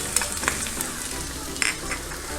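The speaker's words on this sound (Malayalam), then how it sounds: "5 മിനിറ്റോളം എണ്ണയിൽ കിടന്ന് നന്നായിട്ട് വഴറ്റിയെടുത്തിട്ടുണ്ട്" Vegetables sauté in oil for Trivandrum-style vada koottu curry, a soft sizzle close by with a few brief clicks of stirring.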